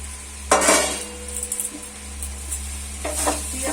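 Flattened rice (chire) being stirred into other ingredients in a hot frying pan while making chire polao: scraping, sizzling bursts in two short spells over a steady low hum, close by and with no talking.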